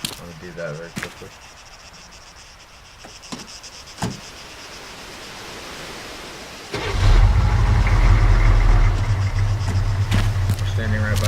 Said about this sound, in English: if we're standing next to this vehicle, for instance, and the engine is running,